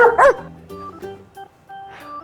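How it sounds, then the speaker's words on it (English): A small pet dog at a farm gives a quick loud yip near the start, then softer whimpering, high-pitched yelps spread over a couple of seconds, close by with no talk. "Say hello to my doggy, Bingo."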